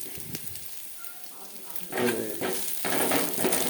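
Country mushrooms frying in a pan sizzle close by, and after a quieter start a spoon stirs them with scraping strokes that make the sizzle louder; a faint voice may be present.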